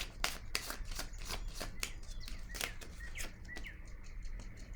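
Tarot cards being shuffled and drawn, a run of quick crisp riffling snaps and flicks close to the microphone, with faint bird chirps in the background.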